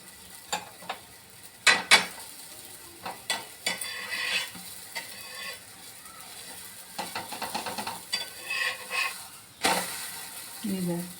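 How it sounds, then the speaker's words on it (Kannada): Holige flatbread cooks in a pan until golden brown, giving a soft sizzle broken by scattered scrapes, taps and clinks of a utensil against the pan, close by and fairly quiet. "ಹೋಳಿಗೆನ ಕೆಂಪಗೆ ಗೋಲ್ಡನ್ ಬ್ರೌನ್ ಬರೋ ತನಕ ಬೇಯಿಸ್ಕೊಂಡ್ಬಿಡ್ಬೇಕು"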